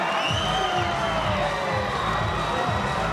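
Muay Thai fight crowd roaring and cheering after a knockout, a loud sustained wall of shouts and whoops with high excited voices, dense and continuous throughout.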